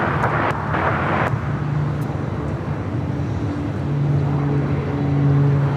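An airplane departs from a runway on the south side at LAX, its engine roar steady and moderately loud in the distance, with a few brief clicks early on and no talk.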